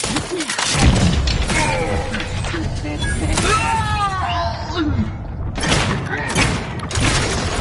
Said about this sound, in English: Taking cover. An explosion!